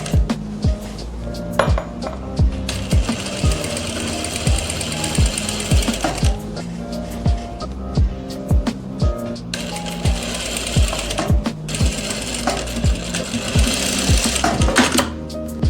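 A sewing machine double-stitches a kurti meant to be worn with a farshi salwar, running in loud rhythmic bursts of rapid needle strokes with short pauses between runs, alone without talk.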